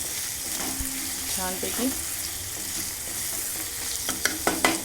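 Potato and spinach bhaji sautéing with turmeric in a pan, a steady sizzle and frying hiss with spoon stirring and scraping, brief clinks near the end, and a short spoken word over it.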